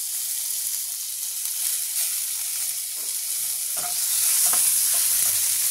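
Tomato goes into a hot pan with fried onion and ginger, producing a continuous close sizzle with soft stirring knocks that grows slightly louder toward the end. No talking.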